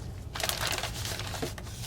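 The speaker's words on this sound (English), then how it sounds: "we're ready to open up our bag and take our fabrics out" A plastic bag holding freshly tie-dyed fabrics (a t-shirt, socks and shoelaces) is opened, giving a close, continuous crinkling and rustling of plastic with a few sharper crackles and no talking.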